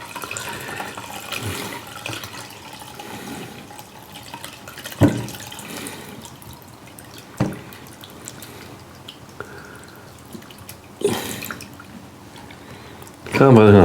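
Liquid trickles and drips as it is strained for carrot cake moonshine, a soft, continuous pour with a few louder splashes and clunks. A person talks over it.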